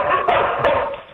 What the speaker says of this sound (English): George, it sounds like that's Waltz's or Fry's dog you have back there